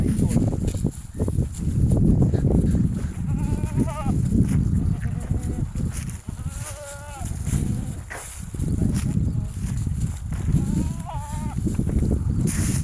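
Several goats bleat in short wavering calls at intervals on a goat farm, heard over a rumbling outdoor background and occasional talk.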